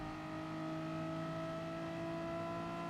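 Steady, sustained engine drone of a Bugatti Veyron race car in Gran Turismo Sport, a constant tonal whine held at one pitch throughout, moderately quiet and alone with no voices.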